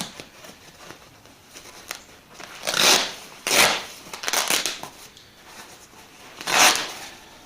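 Foam for a 1978 Dodge Power Wagon truck seat repair is cut in several short, scratchy, rasping bursts, close by, with quiet pauses between strokes.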